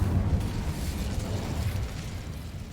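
An Incendio fire spell is cast during combat in Hogwarts Legacy, producing a steady, roaring burst of flame with a heavy low rumble that lasts about three seconds.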